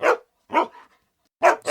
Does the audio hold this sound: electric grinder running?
no